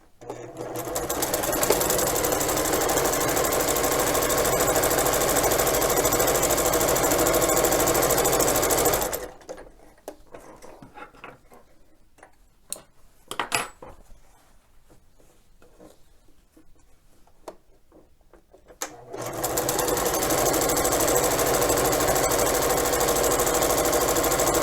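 A home sewing machine stitches fabric basket seams with a steady, loud whir that runs for several seconds, pauses amid quieter handling clatter, then starts up again.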